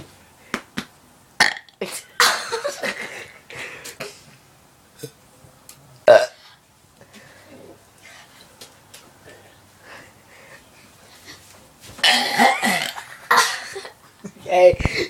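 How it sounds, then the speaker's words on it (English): Several burps from a person, some loud and drawn out and others weak or failed, scattered among quiet pauses and bits of chatter and laughter. "Here's the awesome burp fails and the awesome burp."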